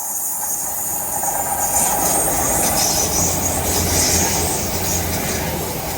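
A train rolls steadily past just outside a window at St Germans, Cornwall, a loud continuous rumble of wheels on rails with a high squeal and hiss riding over it.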